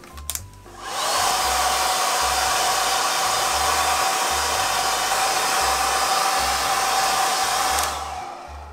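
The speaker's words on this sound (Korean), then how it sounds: "JMW 드라이기입니다" A JMW hair dryer blows loudly and steadily for about seven seconds after a short click at the start, running close by with no talking over it.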